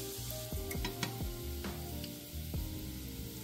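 Sliced onions fry in oil for beresta, a soft steady sizzle under scattered clicks and scrapes of stirring, quiet and close.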